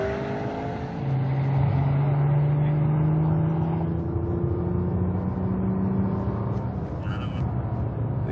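A Nissan GTR drives on an empty race track, its engine holding a sustained, rising whine as it accelerates and shifts, loud and close, with steady road and wind roar underneath.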